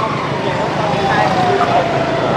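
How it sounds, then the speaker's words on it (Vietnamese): An ambulance siren wails along a busy city street at night in Saigon's Cho Lon district, a steady wavering tone riding over dense traffic rumble and crowd noise while someone talks. "Với đặc trưng của con đường này thì rất là nhiều xe cấp cứu chạy ngang."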